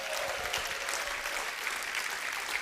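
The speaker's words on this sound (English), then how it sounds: "Let's give them a huge round of applause." Audience applause at a conference event, a steady patter of many hands clapping at moderate volume through the whole stretch, without voices.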